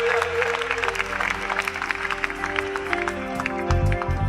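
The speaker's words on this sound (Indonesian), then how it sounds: "Tepuk tangan untuk Tuhan Yesus." A church worship congregation applauds over sustained musical tones, with brisk, moderately loud clapping running throughout.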